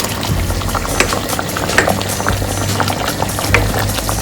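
Shrimp and corn bubbling in a pot of boiling water, with a steady roiling churn and frequent bursting bubbles close by, no voices over it.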